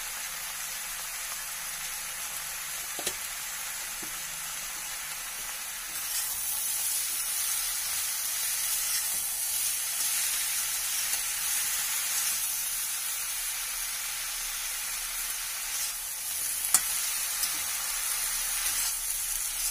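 Mustard paste with salt and turmeric fries in a pan, a steady close sizzle and hiss running for twenty seconds, brightening partway through, with a couple of brief clicks of the stirring utensil.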